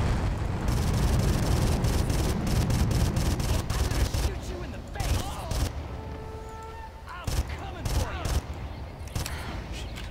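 Dense gunfire and fusillade bursts in the first-person shooter Far Cry, with rapid shots and booming blasts layered over a loud battle din, tapering into sparser shots toward the end.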